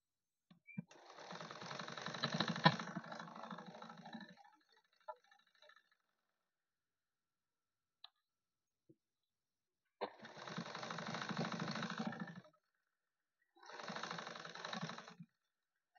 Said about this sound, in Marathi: तर मी आता प्रेस शिलाई करून घेत आहे.